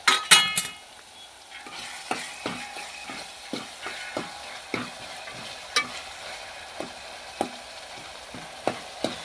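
A spoon scrapes and stirs tomatoes and onions cooking in a pan, regular clacking strokes about once a second over a soft sizzle, close up with no talk.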